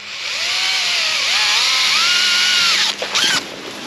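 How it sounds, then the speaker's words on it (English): A power drill whines loudly and steadily, its pitch wavering as it bites into a pipe, then briefly stutters and resumes near the end. "it's gonna be kind of probably hard to drill through this pipe"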